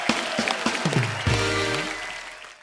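An audience applauds for a singer on a comedy show stage, scattered claps growing into a short burst of applause under music that fades out.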